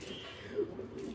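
Pigeons coo softly over steady low background noise, with a few faint, brief calls and no clear repeated rhythm.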